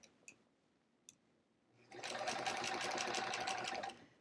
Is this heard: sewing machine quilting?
yes